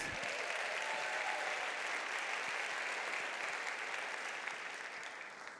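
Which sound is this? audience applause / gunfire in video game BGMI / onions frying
audience applause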